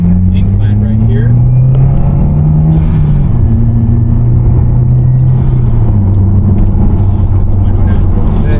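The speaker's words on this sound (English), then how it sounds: "You guys can hear the nice turbo and exhaust sounds from the WRX." Subaru WRX driving up an incline with a window partly down, its turbo and exhaust giving a steady, loud low rumble with slowly shifting engine tones throughout.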